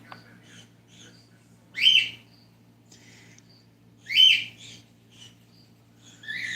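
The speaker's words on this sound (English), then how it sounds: "My cockatiels have decided they need to be very loud." Pet cockatiels let out loud, shrill calls indoors, three separate bursts a couple of seconds apart over a faint low hum, with no talk.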